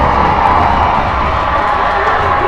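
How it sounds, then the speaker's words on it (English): A youth hockey arena crowd erupts after a goal, a loud sustained roar of cheering and shouting voices that holds steady across the moment. "they score, and the crowd goes crazy"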